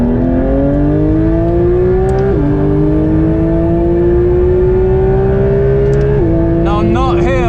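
A Porsche GT3 RS on cold tyres and brakes rolling onto the Nurburgring, its engine droning steadily and rising in pitch through the gears with a brief shift dip, loud and close from inside the car.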